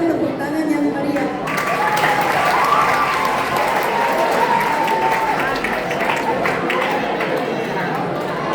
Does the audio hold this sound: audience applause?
yes